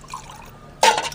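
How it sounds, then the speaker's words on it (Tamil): A cooling homemade drink is poured out in one short splashy burst after a quiet moment, a close, bright trickle of liquid filling a cup. "ஊத்துறேன், இந்த தம்பி குடி."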